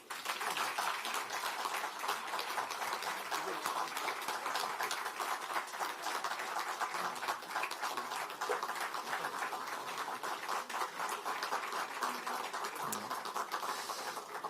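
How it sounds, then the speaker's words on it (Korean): Lawmakers applauding in a parliamentary assembly hall after a new floor leader is elected, a steady, dense patter of many hands clapping continuously at moderate distance, unbroken for the whole stretch with no voices over it. "의원님들께서는 뜨거운 박수로 함께 해주시기 바랍니다"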